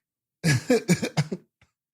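A short burst of coughing, several rapid harsh coughs in quick succession, close and fairly loud, followed by a brief faint sound.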